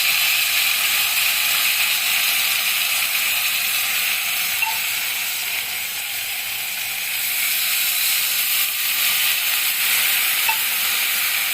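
Poppy seed and chili paste sizzle with potatoes frying in a pan, a loud, even hiss that continues unbroken, with faint stirring clicks now and then.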